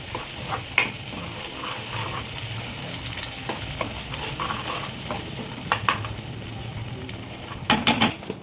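Masala paste with turmeric being stirred in a pan for chana masala, scraping spoon strokes over a steady low sizzle, with a few sharper clinks near the end.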